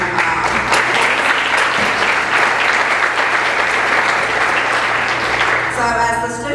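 An audience at a scholarship award ceremony claps in a sustained, loud burst of applause that fades near the end as a voice begins to speak.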